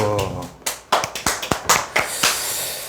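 A small audience at a sales training seminar on telemarketing careers claps in a short burst. The claps are sharp and separate, come at an uneven pace and sound fairly close, with no talk over them.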